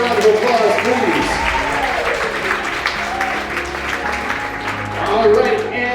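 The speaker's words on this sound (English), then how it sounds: "Give them a giant round of applause, please." Wedding guests give the couple's parents a loud, sustained round of applause at a reception, with cheering and voices mixed into the steady clapping.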